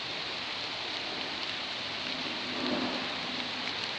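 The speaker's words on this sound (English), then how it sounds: "Hear that rain? It's a constant here now." Steady, constant rain falls in a dense, even hiss, with a faint low rumble swelling briefly near the end and no voices.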